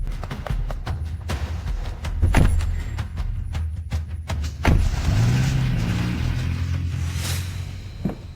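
A car pulls away, its engine rumbling low and steady close by, with a couple of sharp thuds like doors shutting and a rising engine note partway through; no one speaks.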